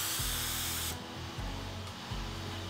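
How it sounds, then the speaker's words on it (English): A spray gun fires lacquer onto a piece of cardboard to set the fan width, a loud hissing blast that cuts off abruptly, with a mechanical pulsing hum continuing underneath. "I'll adjust the width of the fan by spraying onto a piece of cardboard."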